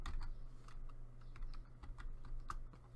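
Rapid clicking of a computer keyboard during a Minecraft session, light keystrokes in an irregular stream with a few sharper taps, heard close and fairly quiet against a low background hum.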